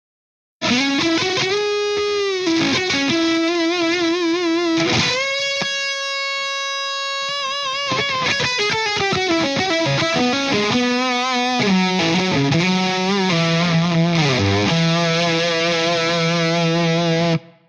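Heavily distorted electric guitar through a Wampler Cryptid fuzz pedal plays sustained, wavering notes and bending lines, loud and continuous with thick, buzzy harmonics throughout.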